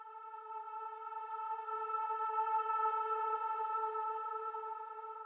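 A sustained tonal lo-fi sample, EQ'd with reverb in Logic Pro X, hums with rich layered harmonics, swelling slightly then fading with a reverberant tail.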